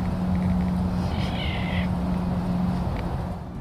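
A short, high, strained call from a caracal rises briefly over a steady low background hum, with no talking.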